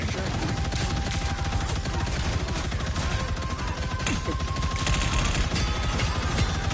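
A powerful turret in a video game fires continuously, producing a dense, loud stream of rapid shots that runs without pause across the whole stretch over game background noise.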